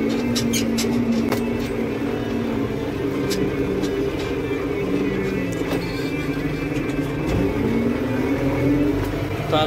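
A New Holland TD 100D tractor engine drones steadily and loudly while the tractor drives over a field with patches of dried mud, a continuous low rumble with a slight bumpy rattle and no talking.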